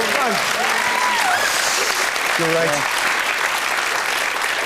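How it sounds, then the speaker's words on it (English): Studio audience applause on a British panel game show, a steady broadband clapping wash throughout with people speaking briefly over it. "A round of applause."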